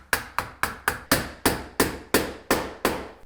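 Nine or ten sharp hammer blows drive a nail through drywall corner bead into a stud, struck in an even, quick rhythm, each crisp metallic tap decaying quickly, close and clear with no talking.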